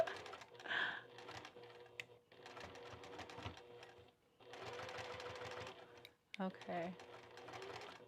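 A sewing machine stitches in the ditch along a seam of kite pants using a standard foot instead of a narrow zipper foot, running in several steady bursts separated by brief pauses, with a person speaking briefly near the end.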